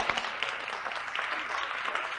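Audience clapping at a workshop on singing Negro spirituals, a brisk, fairly uniform patter of many hands at moderate distance, steady throughout with no talk over it.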